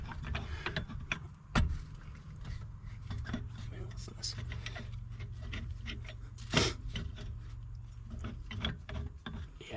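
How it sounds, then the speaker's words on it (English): A ratchet strap is cranked tight around a frozen brake drum, giving off a series of sharp mechanical clicks and pawl rattles, with one louder snap partway through, over a low steady hum and faint murmured voices. "we're going to use a ratchet strap. I need you to hold that side on as I tighten this"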